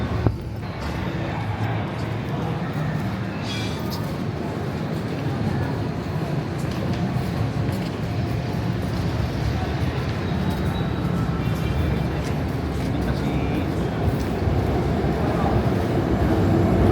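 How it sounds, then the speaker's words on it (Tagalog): A light rail train rumbles past steadily for a long stretch on Recto Avenue, Manila, a continuous rolling roar with clacking, moderately close. "Ay, LRT yun ni Agyo."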